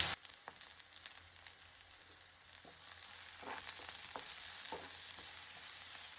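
Garlic, onion and green chili fry in hot oil with a steady, close sizzle and hiss, broken by occasional light clicks of stirring.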